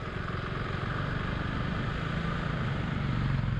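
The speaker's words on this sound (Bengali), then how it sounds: "এবার এখানে বাইক আসছে।" Motorcycle engine noise on an ordinary road at night during a moto vlog ride, a steady low rumble and drone that holds evenly and swells slightly toward the end, with no talking.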